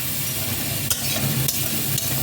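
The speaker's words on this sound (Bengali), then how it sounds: "একটা পেস্ট বানিয়ে মিলিয়ে দিচ্ছি যাতে মশলাটা পুড়ে না যায়" A paste of Kashmiri chilli powder, cumin powder and turmeric fries in hot oil while being stirred, a close, dense sizzle with a few sharp scraping clicks of the spoon across the pan.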